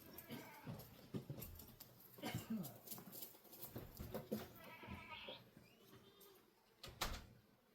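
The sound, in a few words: goats bleating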